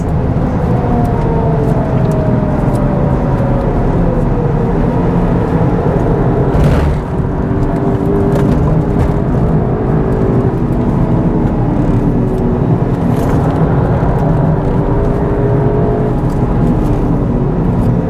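Tuned Mk8 VW Golf GTI Clubsport and Mk7 Clubsport S manual three-door hatchbacks lap a race track, with a loud, continuous engine drone and rising and falling gear pitch heard from inside the car throughout.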